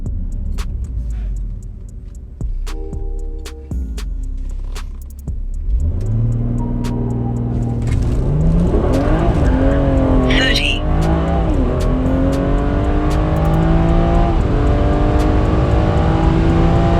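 A BMW 340i (F30) makes a launch-control run on a street, idling low with ticking before the engine surges into loud acceleration with climbing revs and several gear-change dips in pitch.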